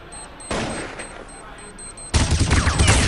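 An AWP sniper rifle fires during a Counter-Strike match in a 2011 tournament game: sharp, loud gunshot blasts with ringing tails, one after another, amid other game sounds.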